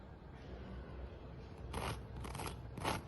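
Dry, crackly crunching bursts of completely dried bread slices, three in quick succession over a faint background hiss, close and fairly quiet.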